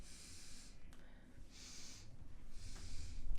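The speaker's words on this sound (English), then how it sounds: "can you try breathing now?" Breathing through the nose after a cranial facial release treatment: three close, sharp nasal inhalations, snort-like sniffs spaced about a second apart over a quiet background.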